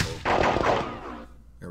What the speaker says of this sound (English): The British brought two light cannons to the field, known as grasshoppers.